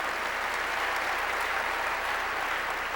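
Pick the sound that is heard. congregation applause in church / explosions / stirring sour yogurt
congregation applause in church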